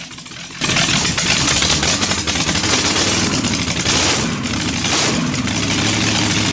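Steady, heavy running of a 375 RPM Allen 6S37 oil engine of 500 horsepower, fitted in 1948 at Welch's Dam pumping station for fen drainage, droning loud and near without pause after a sudden start.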